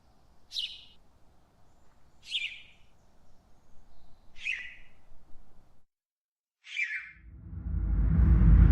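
A small bird chirps four times in short, sharp bursts spaced about two seconds apart, close and clear over a quiet background, before a low rushing rumble swells at the end.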